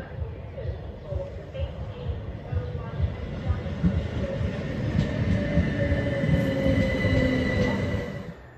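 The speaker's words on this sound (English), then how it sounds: "So just on the train" Rumbling passenger train ride from inside the carriage, with a steady low roar of wheels on rails, rising slightly in loudness, and thin squealing tones from the wheels toward the end.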